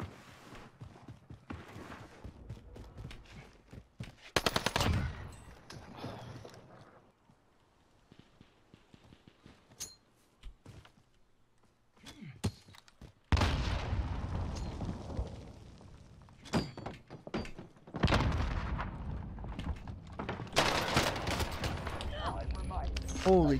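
Chaotic gunfire and explosions from a Warzone match, with bursts of submachine-gun fire and loud blasts, quiet stretches between, under a player's talk.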